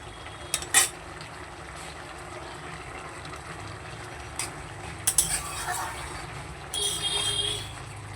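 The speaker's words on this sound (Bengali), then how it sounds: "এবার নেড়ে চেড়ে তরকারিটাকে নামিয়ে নেব।" Spoon stirring a vegetarian curry in a pan, a few faint scrapes and clinks of utensil against metal over a low steady background hum.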